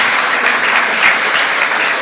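Church congregation applauding during a Spanish-language sermon, a dense, steady roar of clapping hands filling the room at close range with no talking.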